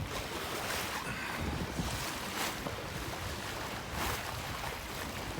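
A sailboat beating close-hauled at about 5.5 knots off the west coast, water rushing and splashing along the hull beneath steady wind noise on the microphone, continuous and fairly loud with no voices.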